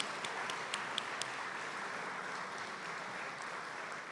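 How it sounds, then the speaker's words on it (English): Faint, steady applause from a trade-show audience at an HIA-LI welcome event, a distant wash of many hands clapping with a few sharper claps standing out early, held at a low level throughout. "Please give them a very large round of applause"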